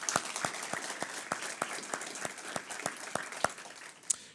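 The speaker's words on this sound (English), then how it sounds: "another round of applause for those individuals because they deserve it." Audience applause at an Oklahoma branding reveal press conference, with steady spaced claps and a few louder individual ones, moderately near and without talk.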